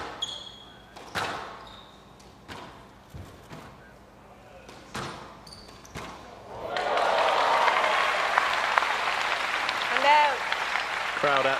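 Crowd at a Hong Kong Squash Open match between Farag and Coll bursts into loud sustained applause after a rally, following several sharp ball hits and court thuds.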